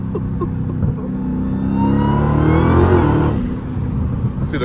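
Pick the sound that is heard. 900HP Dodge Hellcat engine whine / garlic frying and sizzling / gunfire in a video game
900HP Dodge Hellcat engine whine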